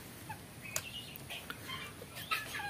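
Farm chickens kept with guinea fowl on a poultry farm give faint, scattered clucks and short calls over a quiet background hiss.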